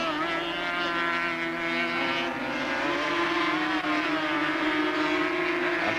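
Racing sidecar outfits at Mallory Park around 1982, their engines screaming in a loud, steady high-revving drone that rises slightly as the machines pass near, with no talking.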